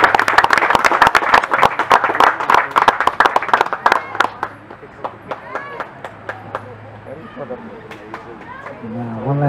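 Wedding guests burst into a round of applause, dense and loud at first and then thinning into scattered claps, with crowd chatter and a voice over a microphone running underneath.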